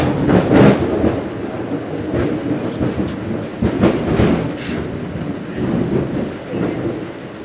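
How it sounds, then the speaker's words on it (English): A heavy night storm batters an outback cabin, rumbling thunder and steady rain making a dense, loud roar with booming swells and crackles, close and continuous, with no voices. "That night, the storm was so loud that it shook the cabin and woke us all from our sleep."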